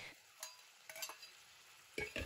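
Green beans and red pepper strips are stir-fried over high heat, with a few quiet scrapes and taps of the spatula against the pan over a faint sizzle, sparse and close.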